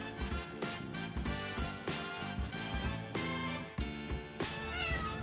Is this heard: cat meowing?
yes